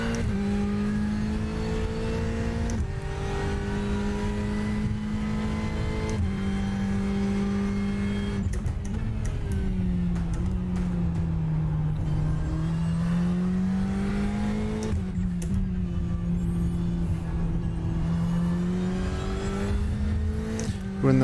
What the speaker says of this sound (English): We're in the Ferrari 488 GTE. This is a dusk to night race.